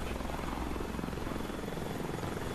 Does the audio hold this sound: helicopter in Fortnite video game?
yes